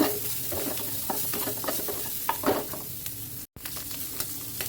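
Garlic and onion sauté in a pan with a continuous sizzle, broken up by frequent scraping stirs of a utensil and a momentary dropout near the end.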